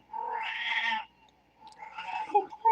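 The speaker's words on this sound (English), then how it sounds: "Little cat." A small cat meows twice, a sustained cry followed by a second rising, wavering one after a short pause, fairly close and moderately quiet.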